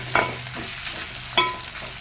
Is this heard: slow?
no